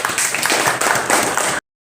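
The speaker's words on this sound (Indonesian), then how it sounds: "tepuk tangan dong." Short burst of clapping from a small group of about 25 trainees at the opening of an office computer skills course, steady and fairly close, cutting off abruptly.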